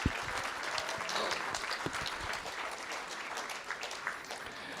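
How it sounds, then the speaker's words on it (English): An audience at a school district board of trustees meeting applauds state-qualifying high school golfers, with steady sustained clapping throughout, moderately distant and fairly soft. "Let's give the golfers a round of applause."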